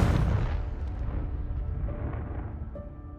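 A Confringo blasting spell explodes in Hogwarts Legacy, a loud single boom with a dense crackling burst that decays over about three seconds.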